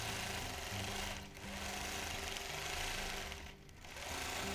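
A vintage sewing machine quilting a double feather pattern to stitch down excess fabric, running steadily with two brief dips where the motor slows before picking back up, close and alone.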